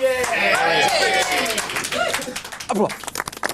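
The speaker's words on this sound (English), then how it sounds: "Dignified applause there for an undignified subject matter" Audience applause breaks out in a studio at a live breakfast show, scattered clapping that builds after a voice speaks over the start.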